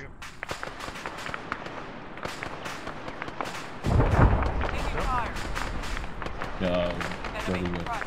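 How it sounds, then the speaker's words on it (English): Enemy gunfire in Arma 3, a rapid crackle of many sharp shots at varying distance, growing denser and louder partway through, with people talking over it. "Enemy fire."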